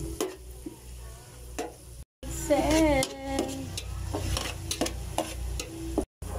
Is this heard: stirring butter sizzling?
yes